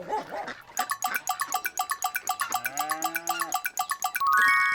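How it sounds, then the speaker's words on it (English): Dogs whining and calling for their puppy, a rapid, regular series of short high yelping whimpers, close and fairly loud, ending with a brief tonal chime. "Listen, the dogs whine."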